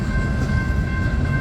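CSX 899 hauling a heavy freight train on the Old Main Line, a loud steady rumble of rolling cars with a thin sustained tonal whine above, close and continuous with no talking.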